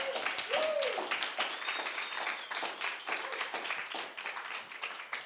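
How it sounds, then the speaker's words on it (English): Applause at a coding bootcamp demo day in Melbourne, a small room of people clapping in irregular bursts, with a brief vocal sound near the start. "Big round of applause for them as well"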